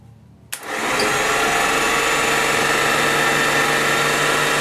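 After a brief click, the electric motor of a 1961 Cushman Truckster EV conversion spins up and settles into a steady, loud, continuous whine and hum close by, with no talking.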